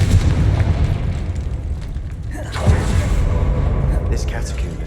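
A Confringo blasting spell explodes in a Harry Potter video game: one deep, booming burst rises from a constant low rumble about midway through, then fades back into the dull background roar.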